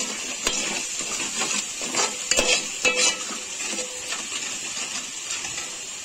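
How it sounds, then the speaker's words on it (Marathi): A spoon stirring a vegetable pulao mixture with coriander-cumin powder in a pan, soft scraping strokes and occasional clinks over a faint, steady sizzle. "धना जिरा पावडर, सर्व मिक्स करून घ्यायचंय"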